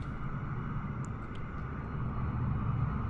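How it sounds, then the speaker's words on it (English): Another aircraft's engine drones steadily in a flight simulator cockpit of a FlySimWare Lear35 jet, a broad continuous rumble throughout the short stretch, no one speaking. "I hear another airplane."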